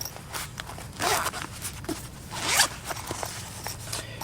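A zipper on a small pistol pouch for a Hellcat .380 ACP is worked in several short raspy pulls up close, with handling rustles in between and two stronger zips standing out.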